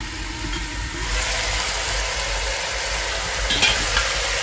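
Meat browns in a pot over an outdoor village fire for güveç, with a steady, fairly loud sizzle and hiss running throughout and a low rumble underneath.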